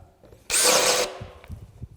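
A DeWalt Atomic Compact Series 20V brushless 1/2-inch drill set on high, fitted with a 1.5-inch spade bit, gives one short loud burst of about half a second, then quiet low thumps follow.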